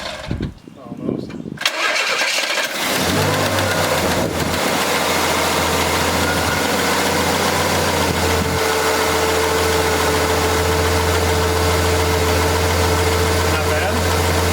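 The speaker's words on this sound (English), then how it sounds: "Okay, cold start. With everything on there, let's see how it does." A Pontiac straight six fitted with a Weber two-barrel carburetor cranks over briefly on a cold start, catches, and settles into a loud, steady, droning idle.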